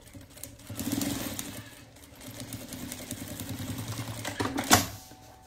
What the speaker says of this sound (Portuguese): Deixa eu só costurar aqui, aí vocês vão ver o que, que eu tô falando.